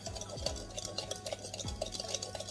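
Spoon stirring sugar, salt and baking powder in a bowl, with quiet repeated scraping and light clinks in an irregular rhythm, close and faint.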